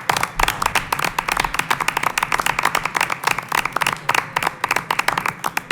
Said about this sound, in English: a great round of applause for everyone who was recognized today